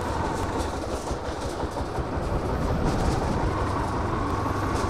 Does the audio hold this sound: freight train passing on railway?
yes